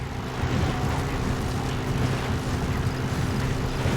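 Helicopter in the video game Metal Gear Solid V: The Phantom Pain, a steady loud rotor and engine drone holding at an even level for several seconds, with no voices over it.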